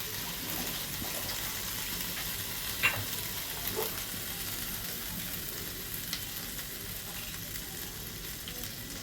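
Oil sizzles in a hot kadai that was just used to fry fish for a small-prawn malai curry. The hiss is steady and broadband, with a few faint clicks and no voices.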